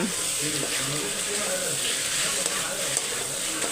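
Ingredients sauté and sizzle steadily in a pan over the heat, a continuous close frying hiss with faint stirring, while a voice talks quietly underneath.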